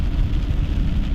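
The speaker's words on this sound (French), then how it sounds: "on a de la pluie forte" Heavy rain during a summer thunderstorm, a loud dense roar of falling water with low rumbling underneath, steady throughout and without voices.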